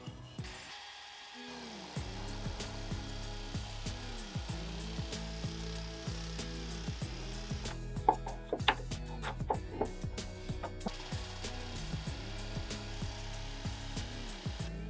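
A power sander grinds steadily against the metal head of an old size 2C hammer, with a droning motor tone that dips and rises repeatedly in passes, plus a few sharp clicks midway.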